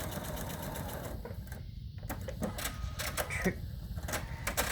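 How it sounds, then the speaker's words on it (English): A sewing machine stitches fabric along a drawn line while making a lap pad texture block, a steady close whirring hum with brief pauses and restarts throughout. "Again, stitching directly on top of the line that I drew."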